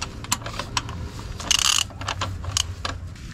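Clicking and ratcheting of a bolt being tightened on the rear engine mount of a Renault Kangoo, a series of short, sharp mechanical ticks with a brief louder burst midway, close up and without talk.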